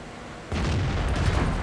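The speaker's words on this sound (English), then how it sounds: "First shot is a complete on-the-move snapshot of the Crusader, misses completely" A Panzer 4 tank firing its gun on the move at a Crusader in a video game, a single loud heavy boom that rings out and rumbles for over a second.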